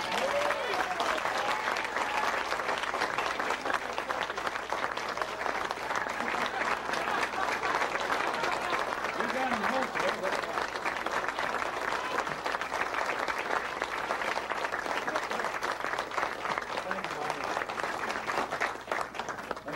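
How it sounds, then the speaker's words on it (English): A large audience at a roping convention in Will Rogers State Park gives a sustained round of applause, steady, dense clapping that holds evenly for about twenty seconds, fairly distant and alone. "we owe a big round of applause to Mark Allen for putting this all together"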